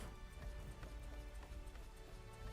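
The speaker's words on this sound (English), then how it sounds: "Oh, well, it's raining." Rain falling in the video game ARK: Survival Ascended, a faint steady patter of drops on surfaces mixed with soft rhythmic tapping, continuous throughout.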